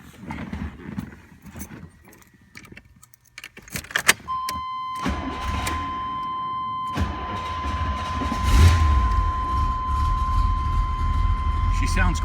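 An older car in a collection is started: a starter cranks through a few uneven clicks and clunks, then the engine catches and settles into a steady, loud idle that swells slightly, with a voice heard early on.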